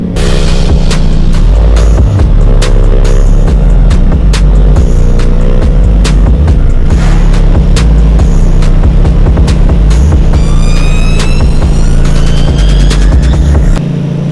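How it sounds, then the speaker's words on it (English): Yamaha FZ07 motorcycle being ridden and wheelied, heard up close as a loud, steady engine drone that rises and falls through gear changes, with wind buffeting and a few sharp pops, and no voices over it. "I'm going to do some wheelies on this thing. Figured I'd bring the FZ07 out for a change."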